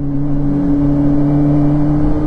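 A Kawasaki Ninja ZX-25R's 250 cc four-cylinder engine hums at a steady high pitch while riding, loud and close with a smooth whining tone and a slight dip in pitch midway.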